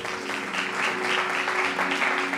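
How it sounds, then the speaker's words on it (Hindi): Church worshippers at a sermon clap for themselves, a broad, steady patter of many hands swelling in soft rhythmic pulses, with a faint musical drone underneath. "आप जितने लोग आ चुके हैं अपने लिए तालियां मारें"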